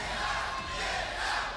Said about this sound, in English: Can we get a get out chant from the crowd?